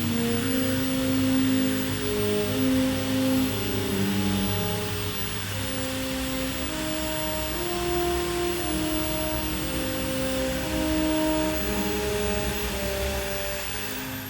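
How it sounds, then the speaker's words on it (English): A handheld power file, a narrow belt sander, grinds a chamfer into a steel spearhead with a constant, moderately loud motor drone and a shifting whine as the belt bites the metal. "just get out my trusty power file, which you guys see me use all the time, and I'm just gonna run a chamfer in there by hand"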